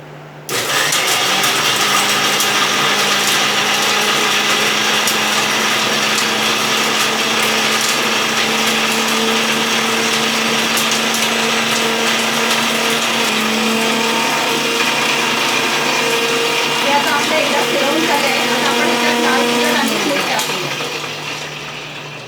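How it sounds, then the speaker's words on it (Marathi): A kitchen mixer grinder whirs loudly and steadily close by while blending garlic chutney, its motor drone holding for about twenty seconds before winding down at the end. "आता आपण मिक्सर लावून घेऊया"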